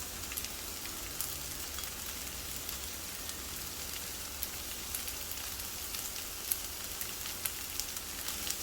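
Village-style fried rice is stirred with seasoning powder and oyster sauce in a hot pan, giving a steady, close sizzling hiss with faint scraping ticks throughout and no talking.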